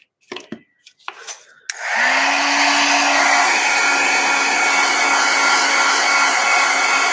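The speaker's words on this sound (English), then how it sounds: "let's hit this with the heat gun so we can get going on this" A few close handling knocks and clicks, then a heat gun switches on and blows a steady, loud whooshing stream of hot air over an art project, with a faint hum under the rush.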